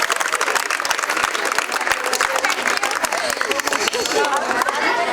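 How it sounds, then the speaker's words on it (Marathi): Audience applause for two women winning Paithani saree prizes at a Ganesh mandal festival event in CIDCO N-2, steady clapping and crowd chatter filling the room for the full stretch, with voices mixed in. "दोघींसाठी एकदा टाळ्या झाला पाहिजे"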